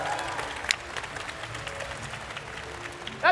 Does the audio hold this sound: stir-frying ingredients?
no